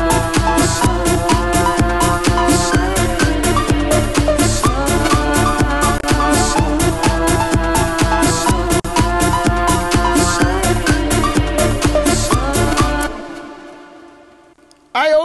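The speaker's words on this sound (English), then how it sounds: "And what always works, you do a little pitch bend on the end." Full synth loop in a dense mix with steady rhythmic hits and sustained chords, a pitch bend on the last note of the bar, then a short fade and a brief burst at the very end.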